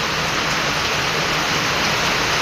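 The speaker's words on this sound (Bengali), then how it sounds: "অনেক সুন্দর একটা বৃষ্টি হচ্ছে" Heavy rain pours down in Patiya, a dense, unbroken hiss of falling water that stays loud and even throughout, with no voices.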